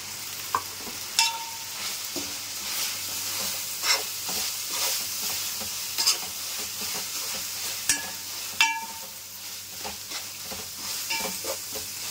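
Mutton with ginger paste, mint and coriander frying in a pan for white mutton biryani, with a steady sizzle under scattered sharp scrapes and clinks from stirring.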